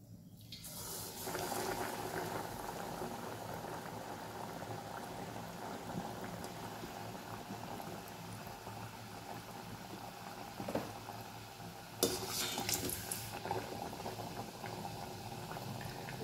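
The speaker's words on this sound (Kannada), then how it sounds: "ಮೀಡಿಯಮ್ ಫ್ಲೇಮ್ದಲ್ಲೇ ಕರೀರಿ." Small hand-shaped Mangalore buns deep-frying in oil over a medium flame, with a soft, continuous bubbling and fizzing that stays even throughout, alone, and a couple of faint clinks near the end.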